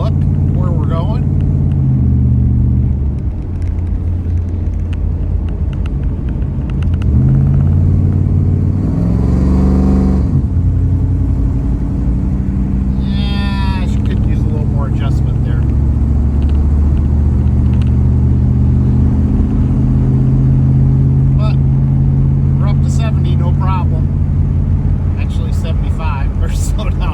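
A 1985 Pontiac Trans Am with tuned port injection drives along a winding road, its engine rumbling loudly and steadily with rises and falls as it accelerates and shifts, while someone talks over it at times.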